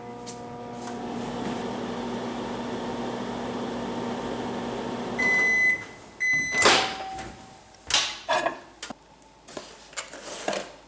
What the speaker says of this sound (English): Pop it in the microwave for 30 seconds.